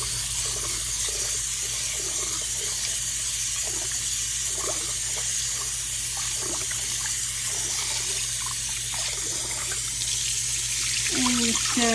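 Water runs from a tap while rice and lentils are rinsed in a kitchen sink, giving a steady near trickle and splash with soft sloshing and clinks, with the flow growing a little louder at the end.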